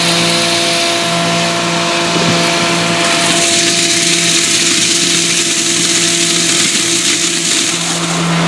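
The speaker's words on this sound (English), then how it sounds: "First thing I turn on is the bug mill, which is that thing. Then I turn on the flail, which is that thing." A bug mill and a flail machine run together at close range, a loud, constant mechanical roar with steady humming tones throughout.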